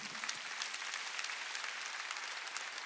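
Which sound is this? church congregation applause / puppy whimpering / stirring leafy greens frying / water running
church congregation applause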